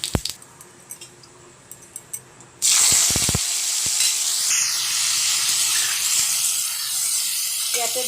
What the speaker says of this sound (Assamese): এতিয়া কঁঠালখিনি মই ধুনিয়াকে ভাজি লম